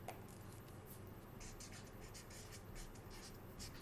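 Pen or marker writing a letter during a math lecture, a steady soft scratching rub that continues alone, close and quiet, without any talk.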